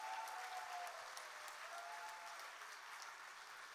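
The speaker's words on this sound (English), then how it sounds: "Let's give a big round of applause for this extended session" Applause from a conference plenary audience marking the end of an extended session, a steady wash of many hands clapping at a distance that stays even and slowly fades a little.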